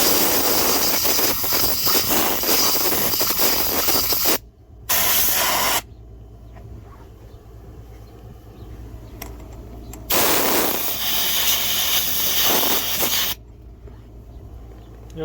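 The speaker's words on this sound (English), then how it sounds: "We're going to blow those things out" Compressed air hose blasting out the coils of a Mr Cool AC condenser, loud harsh hissing bursts lasting several seconds each, broken by two quiet gaps with low background rumble.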